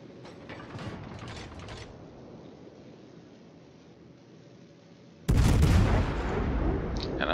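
In a warship video game, faint mechanical clicking runs for several seconds before a naval artillery volley erupts in a sudden, loud, broad blast near the end and keeps rumbling.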